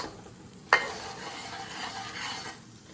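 Onions and peppers cooking in a pan for pepper steak give a steady sizzling, bubbling hiss after a sharp clatter of stirring near the start, close and moderately loud with no talk.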